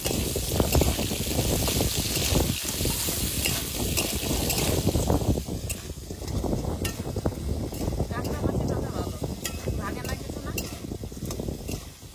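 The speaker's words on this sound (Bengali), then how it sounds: "এবার কড়াইতে সর্ষের তেল দিয়ে কাঁকড়াগুলো ভেজে নেবো।" Crabs fry in mustard oil in a kadai, a busy close sizzle broken by scraping and clattering as they are stirred around the pan.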